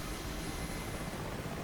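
Mi-8MTV2 helicopter flying in DCS World, its rotor and turbine noise a steady, dense, loud roar filling the cockpit with no talk over it.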